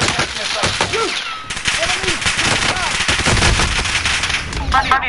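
Rapid automatic gunfire in Call of Duty Warzone, bursts of shots crackling over game effects and chirpy tones, with a player talking excitedly over the action at close range.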